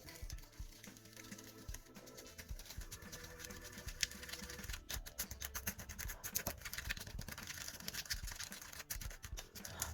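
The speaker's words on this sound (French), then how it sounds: "il me suffit de mélanger pour obtenir un mélange le plus homogène possible" Glue-free slime ingredients being stirred together into a smooth mixture, giving a steady run of soft wet patter, squelching and scraping at close range, quiet and continuous, with no talking.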